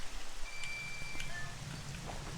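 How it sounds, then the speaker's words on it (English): Steady rain in the video game Twilight Princess, a soft continuous hiss of falling water with a few faint tonal chimes drifting over it, quiet and unbroken throughout. "That stops the rain temporarily."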